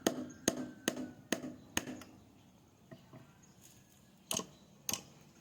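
Hammer blows on a workpiece, about seven sharp strikes in an irregular rhythm with short pauses, fairly close and moderately loud, no talking.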